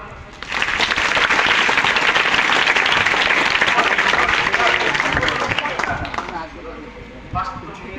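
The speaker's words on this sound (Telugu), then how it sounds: "వాళ్ళందరూ క్లాప్స్ కొట్టండి." Students at a school clap together for the winners, a loud, dense burst of applause from a crowd of children that holds steady for several seconds before thinning out near the end, with voices mixed in.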